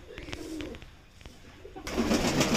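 Pigeons coo softly in a few low, rolling calls close by, followed by a louder rustling burst, with no talking.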